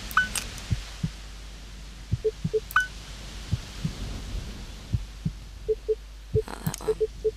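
Steady soft heartbeat thuds from the video game Still Life repeat throughout, joined by short electronic beeps and tones in between.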